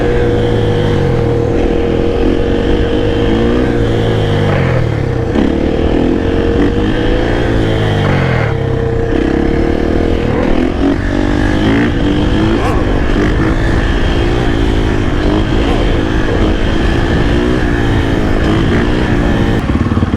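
A supermoto motorcycle engine revs and accelerates during a night ride through city streets, loud and close throughout, with repeated rising and falling pitch as it shifts through gears.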